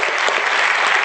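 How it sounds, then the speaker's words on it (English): Dense, steady applause from an audience at an Africa Day 2017 gathering, many hands clapping together at full volume for the whole second with no break. "Shall we give them a big round of applause?"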